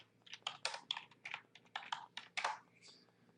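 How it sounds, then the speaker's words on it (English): Fast typing on a computer keyboard, a quick run of crisp clicking keystrokes in short uneven bursts, close and fairly quiet, with no voices. "I'm going to type in MCA webinar"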